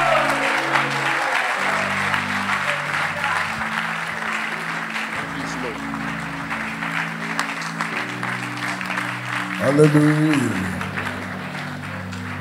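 A church congregation breaks into sustained, loud applause at a sermon's close, the clapping continuing under sustained keyboard or organ tones and a raised voice calling out.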